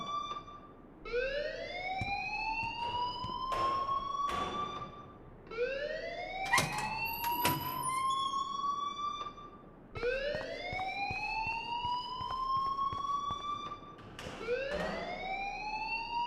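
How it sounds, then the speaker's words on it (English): An electronic alarm in the Life is Strange video game wails in loud rising sweeps, each climbing for about four seconds and then restarting, repeated steadily with sharp clatters mixed in. "please turn off that alarm since that's your job"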